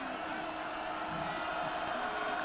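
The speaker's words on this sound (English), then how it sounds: "There's a lot of Duck fans here. They're cheering their team on as well." Oregon Ducks football fans cheering in a stadium during a 2011 game at Colorado form a steady, distant crowd roar that stays dense and even throughout, with no single voice standing out.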